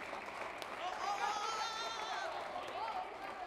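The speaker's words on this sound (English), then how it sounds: "Ladies and gentlemen, another round of applause." Applause and crowd chatter fill a Milford Board of Aldermen meeting, a moderate wash of clapping with people talking and cheering over it, swelling slightly in the middle.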